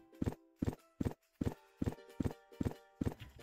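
Horse hooves clip-clop in the farming video game Sun Haven: about eight even, regular hoofbeats at a steady walking pace, fairly soft and unaccompanied by any talk.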